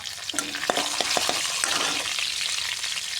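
Two bay leaves hit hot oil in a pan where fish heads were just fried, for a fish-head and sweet pumpkin curry; a steady close sizzle with a few stirring clinks and scrapes, no talking.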